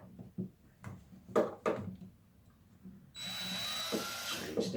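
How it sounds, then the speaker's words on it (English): A power drill bores two holes to mount rock lights on a Can-Am Outlander XMR 1000R, heard as a short whir after some handling clicks and taps, then a steady high whine, close and moderately loud. "I'm just going to drill 2 holes."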